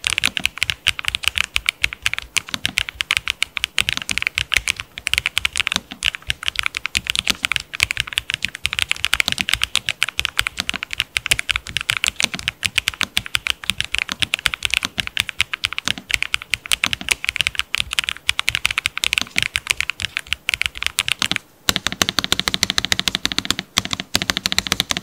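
Steady, continuous typing on a Lofree Flow Lite low-profile mechanical keyboard, close and fairly loud, with dense overlapping key clacks and a brief pause near the end; no talking.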